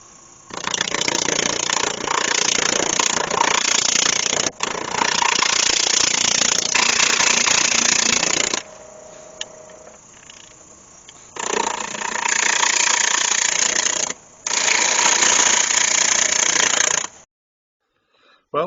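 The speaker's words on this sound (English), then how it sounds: "I'll turn the lathe right down because that's going to be spinning all over the place." Wood lathe turning a bowl blank of walnut and Milliput epoxy putty, giving loud, steady broadband roaring and scraping in two long bursts separated by a quieter gap, with a faint hum in between.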